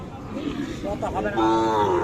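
A cow at a rural cattle market in Dinajpur lets out a single drawn-out moo, close and fairly loud, rising over low background chatter.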